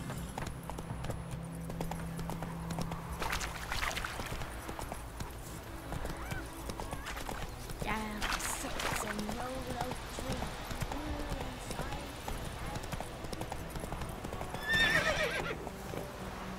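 Roach, a horse in a video game, gallops with rhythmic clip-clopping hooves and lets out several neighs and whinnies. Voices are heard over the hoofbeats.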